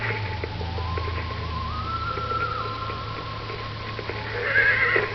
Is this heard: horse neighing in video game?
yes